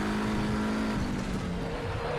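Audi TT RS racing at the Nordschleife in RaceRoom, its engine roaring loud and steady as the revs hold high, dense and continuous with a slight drop in pitch near the end.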